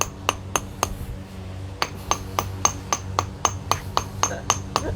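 A tooth hammer taps on marble while carving a relief, striking sharp, bright clinks at a steady even rhythm, about three per second, after a short pause, close and clear with no talking.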